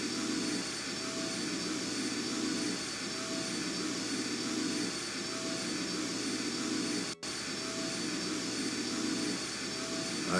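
Engine running in the video game I Have No Mouth and I Must Scream, a steady, even mechanical hum and whir that holds throughout, briefly cut by a short dropout, with no talk over it.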